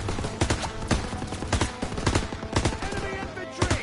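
Rapid machine gun bursts and rifle shots crack out repeatedly in a World War II battle in Call of Duty WW2, set in the Battle of the Bulge, loud and irregular with overlapping volleys.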